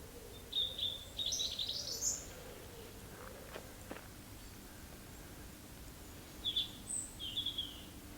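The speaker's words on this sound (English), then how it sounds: "Little bird singing." A small bird sings in two short bursts of high, rapid chirps, faint and some distance away against a quiet, hissy outdoor background.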